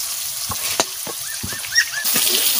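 Chicken frying in a pan with turmeric for chicken pulao, stirred with a few sharp scraping strokes over a soft sizzle and faint background noise.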